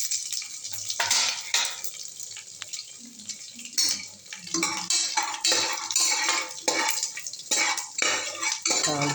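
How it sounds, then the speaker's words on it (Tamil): Bay leaf, star anise, fennel, poppy seeds, cinnamon and cloves tempered in hot oil for chicken gravy, with a steady sizzle and repeated clinks and scrapes of a metal spoon stirring in the pan, close and loud throughout. "இப்போது இந்த பிரிஞ்சி இலை 1, கொஞ்சம் அன்னாச்சிப்பூ, கொஞ்சம் சோம்பு, கொஞ்சம் கசகசா, ஒரு சின்ன பட்டை, 2 கிராம்பு போட்டு தாளிச்சிப்போம்"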